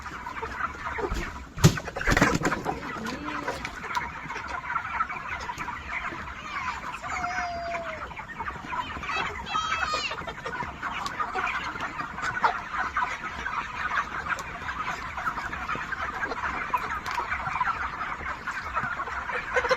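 Broiler chickens cluck and call steadily inside a farm shed, a dense, continuous flock chatter with a few louder squawks near the start, with no talking over it.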